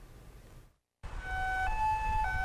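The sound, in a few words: ambulance siren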